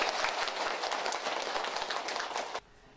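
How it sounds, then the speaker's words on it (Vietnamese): Audience at a year-end gathering bursts into sustained, dense clapping for about two and a half seconds, then cuts off abruptly into quiet room tone. "xin một tràng pháo tay"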